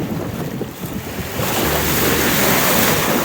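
Black Sea waves wash and roar continuously on the shore by a pier in Odesa, mixed with heavy wind buffeting the microphone, growing louder midway.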